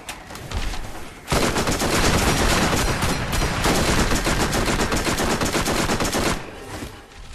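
Sustained rapid gunfire in a video game boss battle against The Destroyer, a massive bullet-sponge creature, with dense continuous automatic bursts running loud for several seconds after a brief quieter lead-in.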